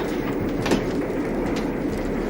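A train rumbles along with a steady, dense mechanical roar and faint rattling, heard close and continuous throughout.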